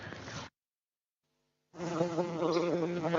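A bee buzzing effect in a stage play, a Janmashtami drama performance: a short buzz, over a second of silence, then a longer, louder, wavering drone.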